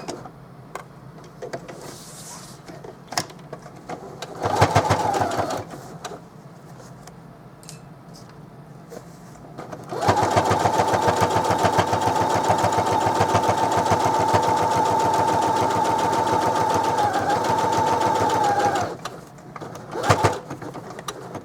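A sewing machine edge-stitches a placemat zipper pouch, starting with brief short runs and then settling into a long, steady, close hum that stops abruptly, with faint ambient sounds around it.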